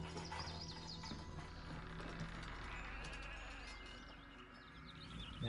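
Sheep in the Greek city-building game Zeus bleat amid a busy, steady ambience of game sounds, the calls fairly faint and repeated under a continuous hum.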